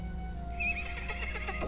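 A skeleton horse in Lord of the Rings Online gives a short rising neigh that breaks into a fluttering whinny, over a steady low game ambience hum.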